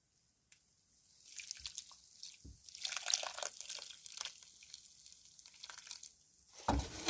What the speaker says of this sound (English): Now we strain.